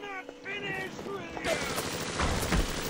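Gunfire in Bioshock 1 Remastered, with rapid shots and bursts building over the last half amid game noise, after a tonal warbling sound at the start; a voice speaks faintly underneath.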